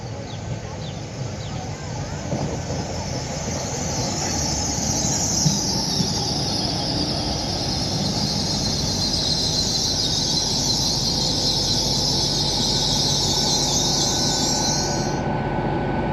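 A GWR Class 800 train, two units coupled, arrives at Par station in Cornwall with a steady low rolling rumble and a long high brake or wheel squeal over most of the approach, cutting off near the end.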